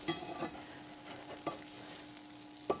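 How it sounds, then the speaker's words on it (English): Blueberry pancakes cooking in a pan give off a steady, fairly quiet sizzle, broken by a few sharp scraping clinks of a utensil against the pan. No one speaks. "when you flip these, the blueberries will cook on the other side"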